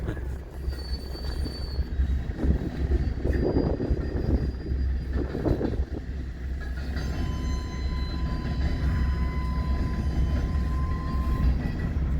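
A westbound empty coal train rolls past at a rail crossing near Ashland, Fremont and Omaha, giving a continuous rumble with wheel squeal and clanking cars, loud and close, with no voices.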